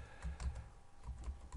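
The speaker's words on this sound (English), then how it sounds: "I'm going to type" Keystrokes on a computer keyboard while typing a web address into a Firefox address bar, a quick irregular run of close, light clicks with no talk.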